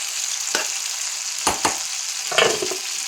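A brinjal curry being stirred in a pan, with a steady frying sizzle underneath and three separate scraping strokes of the spoon, close and fairly loud.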